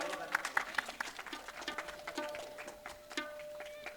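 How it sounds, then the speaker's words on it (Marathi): Scattered, fairly faint clapping from an audience welcoming a guest at a public stage programme, uneven bursts rather than a full ovation, with a voice and background murmur mixed in. "टाळ्या वाजवून स्वागत करावं सर्वांनी."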